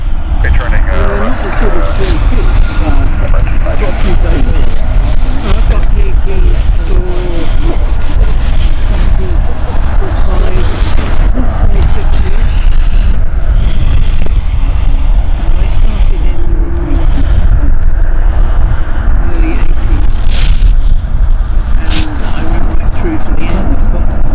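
An aircraft taxiing past at Stansted Airport gives a steady, loud engine rumble with wind noise on the microphone, heard under almost continuous talk throughout.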